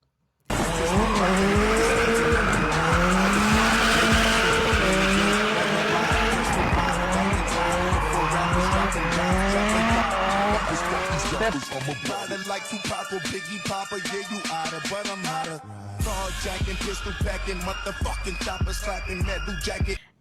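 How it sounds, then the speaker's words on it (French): Drift cars at a drift event with professional drivers scream through slides, their high-revving engines blaring and tires squealing continuously, loud and close, with a brief pause and renewed squealing toward the end. "du drift était également présent avec des démonstrations réalisées par des pilotes professionnels"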